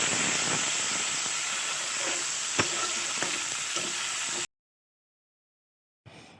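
Fish innards sizzle and spit in hot oil in a wok, a steady loud frying hiss with a few stirring clicks, then cutting out to silence before returning briefly.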